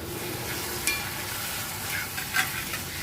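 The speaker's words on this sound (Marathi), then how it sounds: "कांदा असा मस्त असा आपला परतून झाला आहे, थोडासा रंग बदललेला आहे" Chopped onion and a medium tomato fry and get stirred in a pan for an Agri-style dish with wet jawala shrimp, a soft continuous sizzle with a few light scraping clinks.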